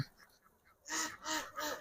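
Ducks on a large duck farm in Mymensingh give a few loud, raspy calls in close succession after a quiet opening, with faint flock noise in the background.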